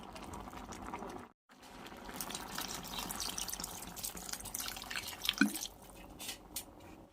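Water poured into a pan of cooking spinach, a sizzling, dripping wash with small splashes and bubbling close by, fairly quiet and cut by a brief gap early on.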